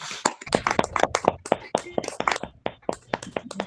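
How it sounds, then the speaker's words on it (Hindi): A church congregation at an intercession prayer service claps loudly in unison to thank God, a brisk run of sharp, close, slightly uneven hand claps with no talking over it. "आइए एक ऊंचे ताली के साथ परमेश्वर का धन्यवाद करेंगे।"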